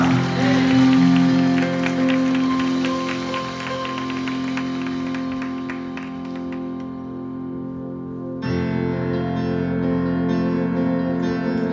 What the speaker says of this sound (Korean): 우리 예배를 받으신 주님께 감사와 영광의 박수를 드리겠습니다